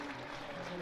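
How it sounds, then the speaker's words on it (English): Cricket crowd at a Nottinghamshire versus Hampshire County Championship match applauding, a steady wash of clapping at moderate distance, brief and continuous. "big round of applause"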